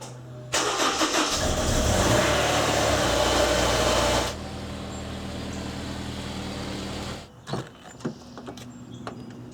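A Honda S2000 sports car starts with a loud burst and runs steadily for a few seconds, then settles to a quieter idle as it moves off, ending with a few brief knocks and clicks.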